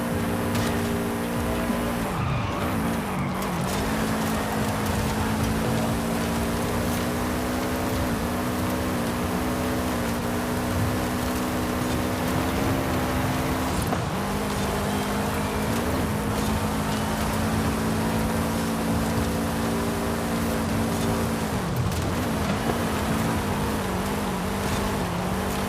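Engine of a car being driven in the racing video game Forza Horizon 5, a loud continuous droning roar with rising and falling revs and gear shifts, plus occasional tire squeal, with no talking.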